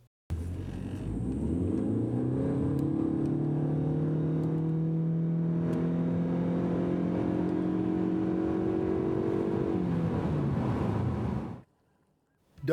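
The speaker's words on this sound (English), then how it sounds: "Straight line acceleration is excellent for a hybrid at this price and efficiency level with sub 8-second 0 to 60 mile per hour runs." A 2013 Ford C-Max Hybrid accelerates hard from a standstill to 60 mph, its engine drone rising steadily in pitch over about eleven seconds with wind and road rush, then easing off and falling quiet.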